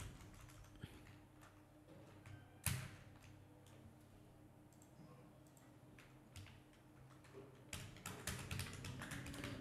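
Irregular light key taps on a computer keyboard while writing in Microsoft Word, faint and close, with quiet bursts of typing spread through a quiet room.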